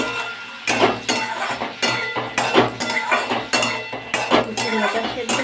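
Snake gourd curry with flattened rice being stirred in a pan as a spoonful of sugar goes in, giving repeated clanking of a utensil against metal in uneven bursts, fairly loud and close, with no talking.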